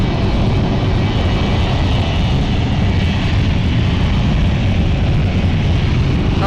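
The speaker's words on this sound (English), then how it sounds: "Oh, he's got full thrust here." Jet airliner engines at full takeoff thrust at London City Airport, a heavy, loud and unbroken roar with deep rumble and broad hiss that holds steady and close throughout, with no talking.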